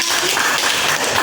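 Classroom of students claps for a classmate, a short, loud burst of many hands close by.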